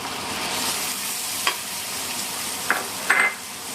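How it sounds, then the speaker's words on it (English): Chopped onions sauteing in butter and ghee with asafoetida, a steady close sizzle with a few sharp clinks of stirring. "now we'll saute these onions till they get a nice golden brown color"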